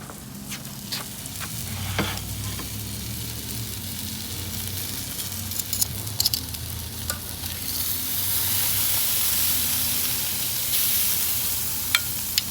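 Hamburger meat frying in a pan, a continuous crackling sizzle with scattered sharp pops and utensil taps, moderately close, swelling slightly in the second half, no talking.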